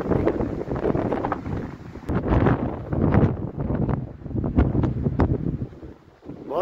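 Strong wind batters the microphone near a market, a loud roaring rumble that surges and eases in gusts with rustling, continuous throughout and with no talking.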